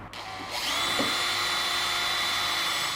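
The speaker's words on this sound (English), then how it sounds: "Drill out your pilot holes first." A power drill boring pilot holes into a hardwood door frame for a Tradco handle plate, starting with a brief whir and then holding a steady, loud, high-pitched whine close by.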